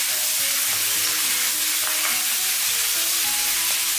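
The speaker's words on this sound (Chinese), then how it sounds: "然后随意的给它翻炒几下" Shanghai bok choy stir-fries in a hot wok with garlic, ginger and chili, giving a loud, continuous close sizzle with occasional scraping and tossing sounds throughout.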